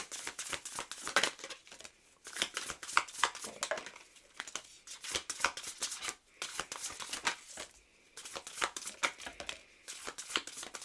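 A deck of oracle cards is shuffled up close in quick, papery riffles and flutters, repeated in bursts with brief pauses between them.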